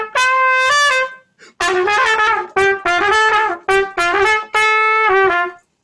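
A jazz melody in New Orleans style is played with a swung, long-short rhythm, bright tonal phrases in bouncy uneven groups separated by brief pauses, close and clear with no talking.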